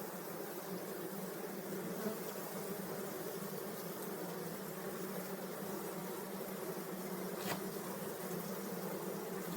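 A swarm of wild honeybees hums continuously, a dense, steady buzzing drone at moderate level with one brief closer buzz passing near, and no speech.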